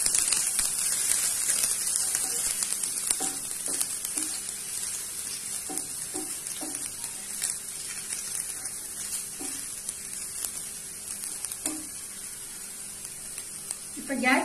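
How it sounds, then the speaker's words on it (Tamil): Ginger and garlic sizzle in hot oil as a steady, close, hissing fry. Soft clinks of stirring pop through now and then, and a voice talks over it. "இப்ப எண்ணெய் காய்ஞ்சிருச்சு, நான் இதுல இந்த இஞ்சி பூண்டை சேர்க்கிறேன். லேசா வதக்கிடலாம்."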